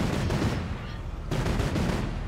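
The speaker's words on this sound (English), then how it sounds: "Are they shooting at you?" Rapid gunfire bursts in a Fortnite match, dense crackling shots running almost continuously for a couple of seconds with a brief lull in the middle, loud and close.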